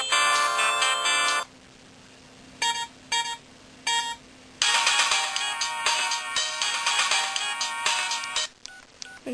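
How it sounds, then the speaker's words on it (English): Electronic phone ringtone melodies play in bursts: a long tonal tune, a few short chirping beeps, then another bright, busy melody, loud and without speech. "And you do get 20 ringtones."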